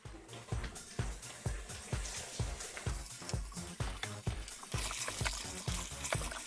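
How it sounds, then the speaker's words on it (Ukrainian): Water poured into a pan of carrots while cooking a meat roast with potatoes, a steady close trickle and splash with rhythmic knocking underneath, no talking. "Там, де була морква, я наляв туди водички, це приблизно 150-200 грам"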